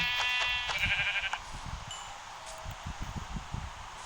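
A sheep in the video game Minecraft gives one short, nasal bleat near the start. Soft rustling and light stepping taps follow, with no talking.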